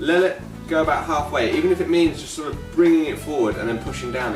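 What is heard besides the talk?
No everyday noises stand out.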